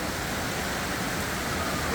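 Dense rain pours down on a Manila street in a steady, loud, unbroken hiss that fills the whole moment, with no distinct voices.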